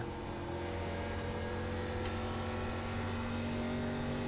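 Race car engine in the iRacing sim, ARCA Menards Series, holding a steady droning tone at moderate level throughout, with no talk over it.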